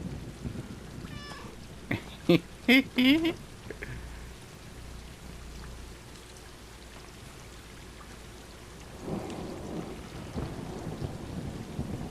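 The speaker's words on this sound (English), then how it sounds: "There's a storm going on." A thunderstorm rolls through in the video game Stray, with steady rain hissing throughout and deep rumbles of thunder. A few cat meows come through early on, and the rain swells again near the end.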